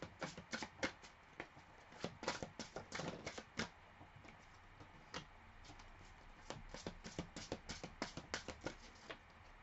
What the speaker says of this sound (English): Let me just pull some more cards here.